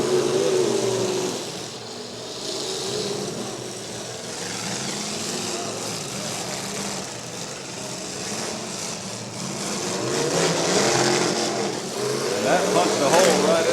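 Demolition derby cars at a county fair derby rumble and rev continuously at mid distance, engines droning with occasional louder surges and rough mechanical noise, while a commentator talks over the action throughout.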